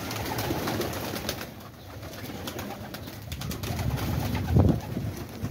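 Pigeons coo softly in a low, throaty rhythm amid light outdoor background noise, with one louder coo near the end.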